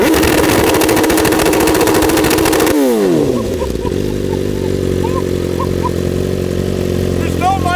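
A 2025 BMW S1000RR with a full titanium Akrapovic exhaust holds a harsh, very loud launch-control rev, then drops to a lower steady rumble with a falling whine as it pulls away.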